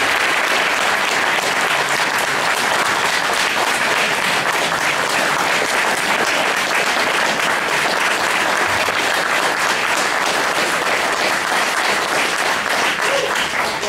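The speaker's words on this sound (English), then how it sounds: "I would give them a round of applause again" A general meeting audience applauds the candidates with steady, dense clapping that fills the whole stretch without pause, loud and close, with no talk over it.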